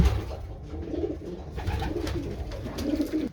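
Racing pigeons coo repeatedly inside a loft, soft rolling calls overlapping in a close, continuous murmur with low rumbling undertones and no talk.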